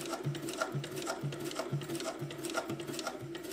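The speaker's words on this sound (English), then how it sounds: "when I'm sewing, I just want to sew slowly like this" An industrial sewing machine driven by a servo motor stitches slowly, each stitch a distinct mechanical clunk repeating about twice a second, close and steady with no talk.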